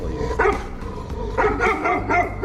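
A dog barks and yips near a canal in a few loud, close bursts spread across a couple of seconds, with no one speaking.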